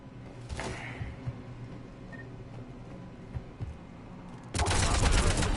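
A burst of loud, dense gunfire-like blasts erupts near the end after a stretch of quieter background rumble and scattered thuds, like heavy cannon fire in Mass Effect on PS5.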